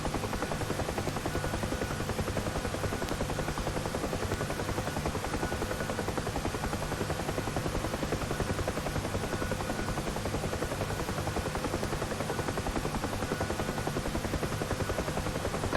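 UH-1H Huey helicopter in Digital Combat Simulator on runway approach, a steady, continuous rotor thump and turbine whine holding at even loudness throughout with no talking.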